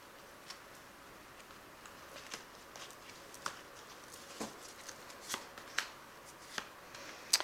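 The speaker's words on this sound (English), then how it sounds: "I'll just pick out 2 cards for advice." Fairy oracle cards are shuffled quietly by hand, with soft papery riffles and a series of distinct light snaps and taps as cards are picked out at close range, no talking.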